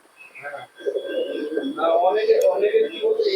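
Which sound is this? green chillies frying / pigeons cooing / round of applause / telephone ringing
pigeons cooing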